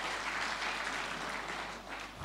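A church congregation claps together during a Sunday worship service. The sustained, dense applause stays even and moderately distant, then thins slightly toward the end.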